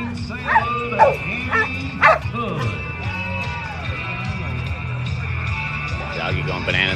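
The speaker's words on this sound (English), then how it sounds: "Doggy going bananas over here." A dog barks excitedly at a live rodeo event, sharp yips and barks near the start of the clip, sounding among crowd noise and a speaker's voice.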